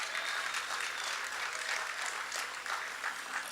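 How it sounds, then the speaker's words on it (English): A crowd at a public civic gathering applauds police officers, a continuous wash of many hands clapping at moderate distance, steady throughout with no voices over it. "Please give them a round of applause."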